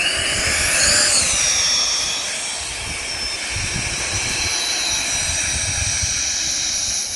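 A Freewing F/A-18 4S 64mm EDF RC jet on its maiden flight gives a steady, high-pitched ducted-fan whine that swells slightly early on, then holds at a distance over a rumbling wind-like background.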